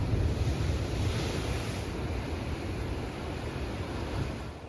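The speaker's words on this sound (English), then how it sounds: "those are some big waves out there" Big ocean waves break and roll steadily onto the beach at Hilton Waikoloa, a continuous broad roar of surf mixed with wind rumble, no voices.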